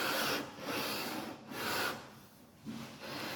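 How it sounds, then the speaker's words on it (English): A 12-inch radius sanding beam with 100-grit paper rubs back and forth along a guitar fretboard, close and steady, in long raspy strokes with brief pauses between passes. "when you start sanding the fret dots and your fret dots become smooth"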